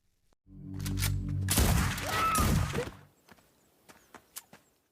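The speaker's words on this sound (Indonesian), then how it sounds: "John pun langsung menembak beberapa penyusup yang sempat bersembunyi di rumahnya" A movie shootout in which a man fires on intruders hiding in his house: a low hum gives way to a loud, dense volley of shots lasting over a second. Scattered sharp clicks and knocks follow.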